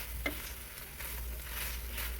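Ribeye mixed with sesame oil in a hot pan fries with a low, steady sizzle and soft stirring scrapes, faint over a constant low hum.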